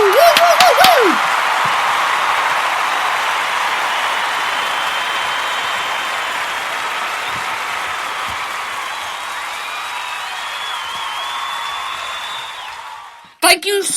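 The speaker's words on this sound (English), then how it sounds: "Thank you for the great, fantastic round of applause." Audience round of applause at a live concert, steady broadband clapping sustained for many seconds after a brief whoop at the start, fading slightly before a few closing sounds.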